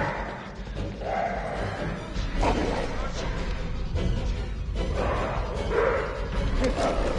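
A dog in the horror video game Until Dawn gives repeated playful barks and yips amid dense game sound and scuffling, with people talking over it.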